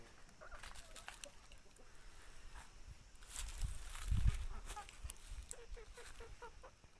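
Several free-range village chickens cluck softly nearby in short, scattered bursts, with light rustling and footsteps in a quiet outdoor yard.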